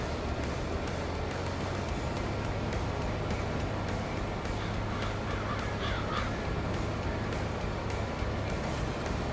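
A crow caws faintly a few times in the distance beside a farm field being harvested for black beans and corn straw, almost buried under the steady loud drone of machinery.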